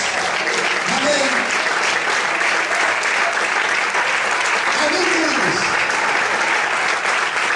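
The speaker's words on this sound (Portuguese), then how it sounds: "Você pode aplaudir o Senhor e adorar a Deus." A church congregation applauds during worship at an evening service, a continuous, loud and even roar of clapping, with faint voices calling out beneath it.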